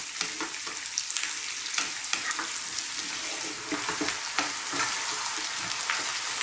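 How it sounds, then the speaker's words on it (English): Diced potatoes for a potato korma fry in butter over medium-high heat, tossed and stirred around the pan; a steady, close sizzle with scraping stir noises throughout and no talking. "now let's cook this for about 3 to 4 minutes. Just keep throwing it around in the pan"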